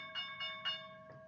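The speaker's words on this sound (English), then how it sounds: "and there's the bell" A stock market opening bell rings out in three quick, evenly spaced bursts over a sustained ringing tone, fairly faint, with a short fainter tap at the end and no talking.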